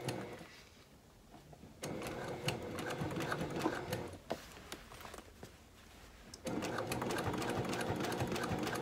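A sewing machine stitches a curved seam on a hanging toiletry bag, its rapid mechanical chatter running in steady bursts broken by short pauses, close and clear with no talk.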